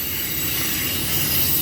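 A passing train with squealing wheels, a loud steady rolling rumble of railcars with a high metallic screech running over it, heard alone.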